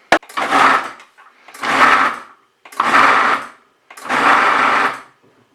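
Food processor pulsing mushrooms and beans for a vegan bean burger mix, four short motor bursts of about a second each separated by brief pauses, loud and close with no talking.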